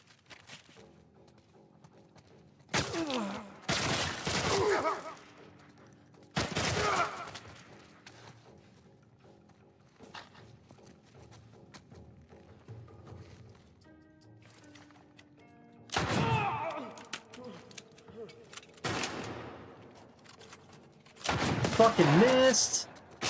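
Gunfire in The Last of Us Part I, several loud separated bursts of shots and impacts spread across the stretch, with quieter game ambience and a voice in between.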